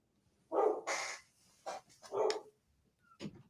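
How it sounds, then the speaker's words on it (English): A dog barks during a talk show, several loud, close barks in quick bursts with short gaps between them, sounding alone without speech over them. "That's my dog."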